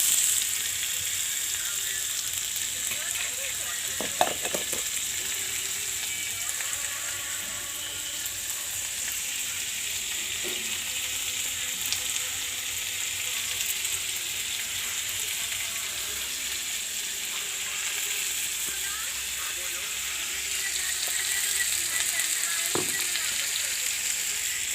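Pasta fries in a pan as salt and turmeric go in, with a steady, bright sizzle throughout, occasional light clinks and stirring scrapes, and faint speech in the background.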